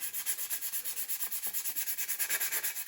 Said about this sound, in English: Sanding it down, trying to get it flush, and I'm not pushing hard.